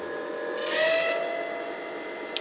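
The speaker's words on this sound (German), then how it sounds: "Und dann achtet ihr mal auf das Geräusch der Pumpe, wenn die weniger Öl bekommt," A model hydraulic pump strains with a kinked hose starving it of oil, giving a thin whistling, hissing tone that swells briefly in the middle over a steady mechanical hum, ending with a small click.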